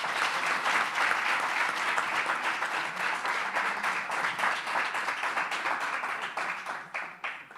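Sustained applause from an audience for a speaker at a talk event, dense steady clapping that continues throughout and thins slightly toward the end.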